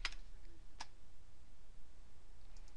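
Typing on a computer keyboard, two or three crisp, isolated key clicks spaced irregularly over a quiet room background.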